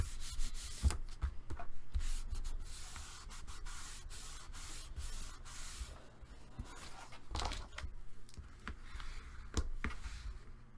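A part is burnished by hand during crafting, giving a steady scratchy rubbing with repeated sharp strokes and taps, close and fairly quiet, with no talking.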